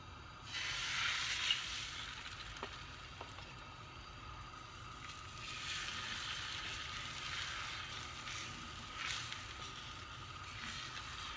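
Eggs scrambling in half a tablespoon of hot oil in a pan for Chinese fried rice with beef, giving a steady, fairly quiet sizzle that runs throughout with no talking.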